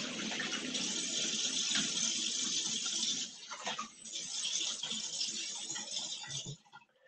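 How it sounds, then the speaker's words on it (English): Tap water runs steadily into a sink as someone rinses off after a shave, a loud continuous gush that is briefly broken by hands under the stream before it cuts off. "Let me just rinse off real quick."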